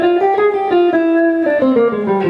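A Lydian sharp 5 scale, the third mode of melodic minor, played as a clear sequence of individual notes, each stepping to a new pitch with a steady rhythm.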